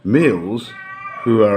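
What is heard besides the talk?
cat meowing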